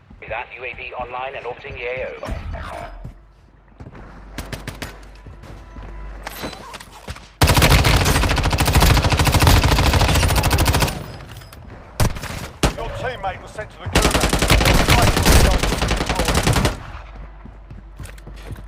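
Bursts of automatic gunfire from a gun in Call of Duty, loud sustained rattling volleys with short pauses between, mixed with game effects and a voice talking over the action.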